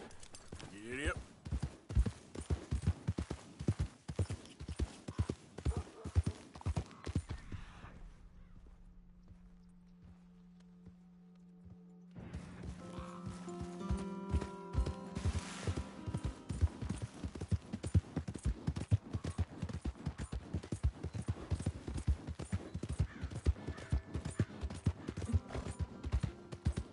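Steady clip-clop of horse hooves walking in Red Dead Redemption 2, a continuous rhythmic trot that pauses briefly midway then resumes, close and clear.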